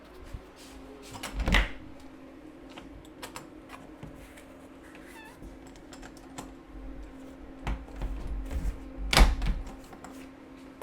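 A resistance band door anchor being fitted in a door gives two sharp, thudding knocks several seconds apart, along with faint rustling and light clicks in a quiet room.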